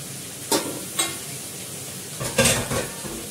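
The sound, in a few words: ginger paste added to frying meat, stirring in pan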